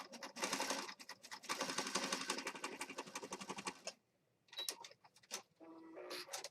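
A sewing machine stitches across paper junk journal pages in rapid mechanical bursts, running for several seconds, pausing briefly, then stitching again in shorter runs.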